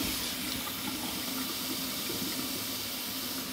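Water runs steadily from a tap into a sink as a hockey goalie catching glove soaks, a continuous close hiss and splash with no talking.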